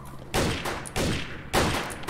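Three loud shotgun blasts in a video game, each a sharp broadband burst with a short decaying tail, spaced roughly half a second apart.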